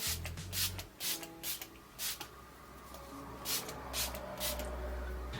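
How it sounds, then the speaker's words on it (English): Several short hissing spray bursts from a makeup setting spray bottle, repeated at irregular intervals, close up over a low hum. "it is just a standard spray"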